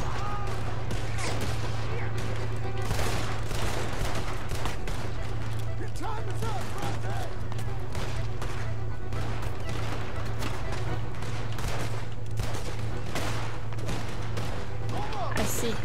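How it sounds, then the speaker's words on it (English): Gunfire in Red Dead Redemption 2 rattles in dense, repeated cracks under steady game background noise, with a person talking over much of it. "Guns."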